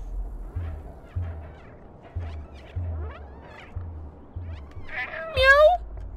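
In the video game Stray, a single cat meow rises near the end over a soft, rhythmic thumping game background, following a stretch of quieter ambient sounds.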